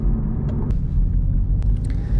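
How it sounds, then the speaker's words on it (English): Geely BinRui with a 1.0-litre turbo engine and six-speed dual-clutch gearbox droning under hard acceleration, a steady deep rumble heard from inside the cabin with a couple of faint clicks, no voices. "the engine noise is too noisy when you're accelerating fast"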